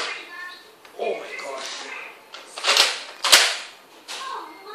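Nerf Elite Retaliator foam blaster fired twice in quick succession, two sharp close pops in the middle of the clip amid children's chatter and background talk.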